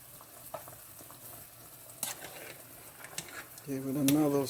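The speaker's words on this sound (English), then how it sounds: "Give it another stir." A spoon stirring a pot of black eyed peas with ham hocks at home, with scattered scrapes and clinks against the pot over a soft simmer, followed by someone speaking near the end.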